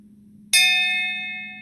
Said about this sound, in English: it actually rings at a louder amplitude, but the same frequency